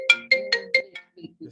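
Mobile phone ringtone playing a short melodic phrase of four or five bright tones in quick succession, fairly loud and close, then fading into a couple of softer notes.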